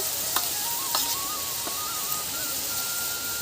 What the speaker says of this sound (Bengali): হলুদ টমেটোটা একটু কষে নেব গুঁড়া লঙ্কা